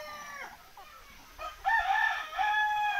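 A rooster crows nearby on a desi poultry farm, a loud drawn-out cock-a-doodle-doo rising in the second half after quieter clucking sounds at the start.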